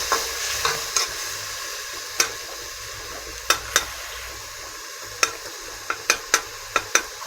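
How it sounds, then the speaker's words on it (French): Okra and fish sauce with blended tomato cooking in a pot, giving a steady close sizzle with scattered sharp spoon taps and clinks that grow more frequent toward the end, with no talking. "Je vais laisser mijoter aussi quelques minutes."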